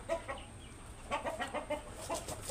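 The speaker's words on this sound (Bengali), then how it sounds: "এটা সবথেকে বড় পাহাড়ি মোরগ।" A large Pahari breed rooster weighing about 3.8 kilograms clucks close by in a run of short, quick, repeated notes on a farm.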